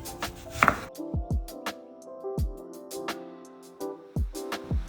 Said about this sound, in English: I'm gonna go ahead and cut some onion